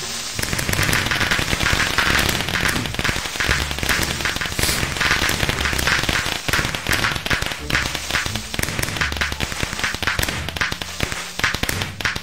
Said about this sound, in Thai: เพราะว่ามันระเบิดออกมาเป็นพลุนั่นเองนะครับ